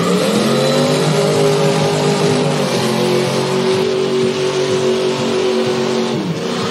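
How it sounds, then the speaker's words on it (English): A third-generation Chevrolet Camaro revs hard at a burnout contest, a loud close engine roar holding high revs with a slight drop in pitch before falling off sharply at the end. "Chad Wiley coming up right now in this third-gen Camaro"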